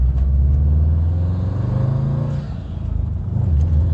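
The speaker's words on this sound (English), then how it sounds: "It's got the turbo whoosh." A Subaru WRX STI engine rumbles and revs up close, with a rising turbo whoosh of air as it accelerates, then settles.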